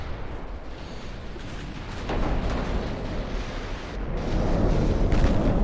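A dense, continuous barrage of rumbling gunfire and booms from warship secondary guns in a video game, swelling louder toward the end, with no voices.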